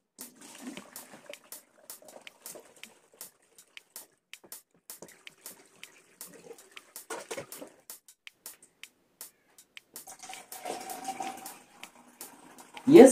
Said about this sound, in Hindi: ये सेफेस्ट वे है पानी ट्रांसफर करने का टैंक में ताकि सब्सट्रेट ज्यादा हिले नहीं।